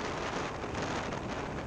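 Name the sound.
strong wind outdoors at motorcycle race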